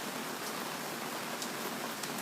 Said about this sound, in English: it's coming down kind of hard right now